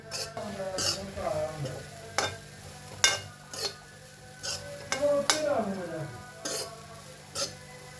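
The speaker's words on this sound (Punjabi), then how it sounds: "ਹੁਣ ਆਪਾਂ ਇਹਨੂੰ ਬਹੁਤ ਹੀ ਵਧੀਆ ਭੁੰਨਾਂਗੇ ਜਿੰਨਾ ਚਿਰ ਇਹ ਲਾਲ ਨਹੀਂ ਹੋ ਜਾਂਦਾ" Crumbled leftover roti churma, made with jaggery and ghee, is roasted in a pan with irregular stirring scrapes and utensil knocks over a soft sizzle, with a voice briefly heard.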